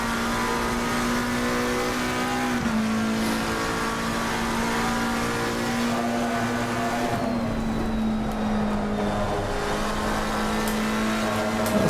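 A car runs a lap on a race track, its engine droning loud and close at a steady pitch with a couple of brief dips as it shifts, and no voices.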